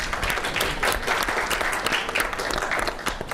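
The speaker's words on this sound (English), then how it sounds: "Let's give him a big round of applause." A conference audience at a business summit gives sustained, dense applause welcoming a speaker, a steady wash of many hands clapping throughout.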